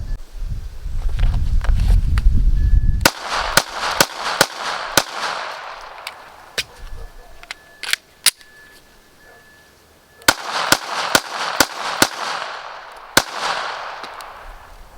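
Gunshots from a Taurus GX4 Toro pistol at a range: fast strings of sharp, loud reports in two bursts separated by a quiet gap, with heavy wind noise buffeting the microphone at the start.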